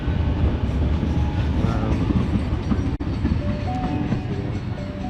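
A train runs through a station platform without stopping, a loud steady rumble with rhythmic wheel clatter and a faint squeal, continuing unbroken for several seconds.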